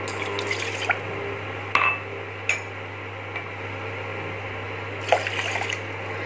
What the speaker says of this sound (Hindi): तो हम अभी 2 कप पानी डालते हैं।